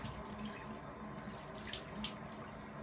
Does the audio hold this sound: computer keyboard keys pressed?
no